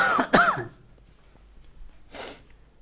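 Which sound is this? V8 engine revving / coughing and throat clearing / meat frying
coughing and throat clearing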